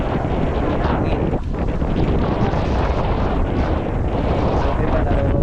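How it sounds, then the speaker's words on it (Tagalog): Strong wind buffets the microphone on the shore of Taal Lake amid rough waves, a loud continuous roar with gusting rumble filling the whole stretch. "Hangin."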